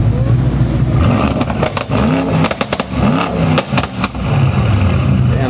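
A modified wagon at a busy car meet revving hard with sharp exhaust pops and crackles, loud and close, the engine rising and falling in bursts while voices of the crowd mix in around it.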